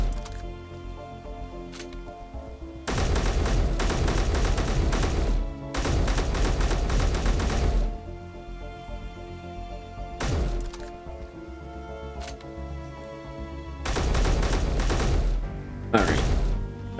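Bursts of rapid automatic gunfire from a video game, fired at a Gatling gun, come in several sustained loud volleys separated by pauses, with occasional single cracks between them.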